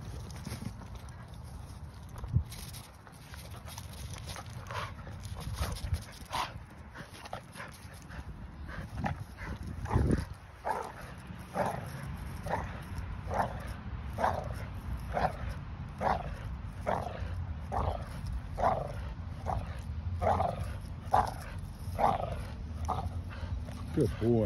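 A dog gives a steady run of short barks and yips, evenly spaced, with a few whimpers, while a person talks now and then nearby.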